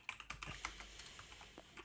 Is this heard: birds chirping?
no